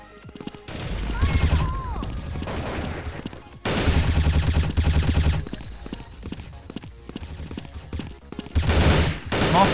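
Bursts of HK416 rifle fire in the Blood Strike video game, loud rattling volleys broken by short gaps, with a voice speaking briefly between them.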